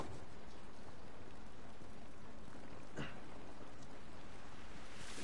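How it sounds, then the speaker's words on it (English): Steady rain pours down in The Last of Us video game, a continuous even hiss of falling drops with a brief sharper splash in the middle and no speech. "This rain ain't gonna do us any good."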